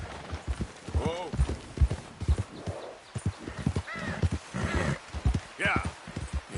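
Horse hooves clip-clopping in Red Dead Redemption 2, a steady rhythm of close, clear hoof strikes with a whinny, under intermittent character voices.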